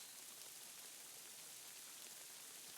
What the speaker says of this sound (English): I love the sound of rain now that I'm wearing these headphones.